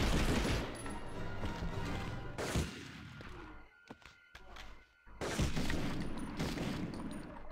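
Gunfire from the PS1 game Medal of Honor, a dense burst of rapid shots with thuds and booms, a brief quieter gap in the middle before the firing resumes loudly.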